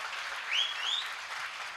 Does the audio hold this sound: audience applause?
yes